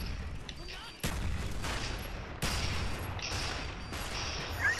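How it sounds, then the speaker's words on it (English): Stun grenades and gunfire go off in Black Ops online multiplayer, with several sharp bangs at irregular intervals over a steady din of distant battle noise, fairly faint overall. "The amount of stun grenades I'm hearing."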